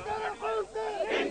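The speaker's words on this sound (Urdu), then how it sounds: "MQM کے کارکنان نے قاتلوں کی گرفتاری کے لیے نعرے بازی بھی کی۔" MQM workers chant slogans at a funeral, a crowd of voices shouting in rhythmic bursts, loud and close.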